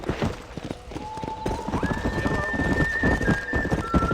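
A horse in the Red Dead Redemption video game gallops with steady clip-clop hoofbeats and lets out a whinny, set against game music with a sustained whistle-like tone throughout.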